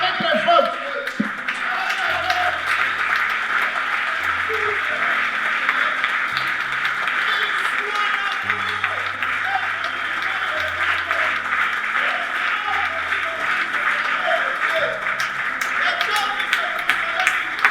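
Sustained, dense applause from a large crowd at a funeral gathering in Brussels, steady and loud throughout with scattered cheers, chuckles and faint musical tones underneath.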